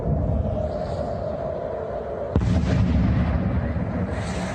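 Israeli airstrikes on the Gaza Strip, heard as a steady low rumble with one sharp, loud explosive boom midway followed by a heavier, sustained roar.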